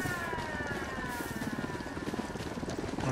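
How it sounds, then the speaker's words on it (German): Helicopter in the video game Ghost Recon Wildlands, a continuous thudding rotor and engine roar filling the scene at steady loudness, with no voices over it. "Und dann kommt doch schon der Helikopter."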